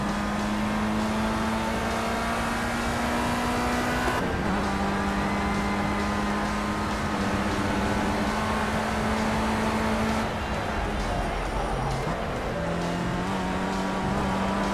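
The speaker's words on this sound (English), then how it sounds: "Hard on the brake, right hand turn, and on the gas we go." A race car in the Project CARS video game at Donington Park drones along under steady throttle, engine pitch holding then dropping as it brakes for a right-hand turn around four seconds and again near ten, before climbing back on the gas.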